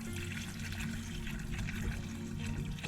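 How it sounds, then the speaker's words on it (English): Water pours steadily into a nativity light-up snow globe during a repair water change, a continuous close trickling and splashing stream with no talk. "All right, so first of all, we will add some water."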